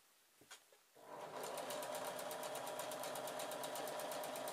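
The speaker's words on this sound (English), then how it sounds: "we're going to sew approximately ½ centimetre in all the way across the bottom" A sewing machine stitches a half-centimetre hem along the bottom of a teal chemise, starting after a few faint clicks and then running steadily and fast with a close, even mechanical rattle for the rest of the stretch.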